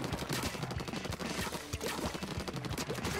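Weapons firing in Splatoon 2 Turf Wars, a steady stream of soft repeated shots and splatting pops in fast irregular succession, fairly quiet and continuous with game noise behind it.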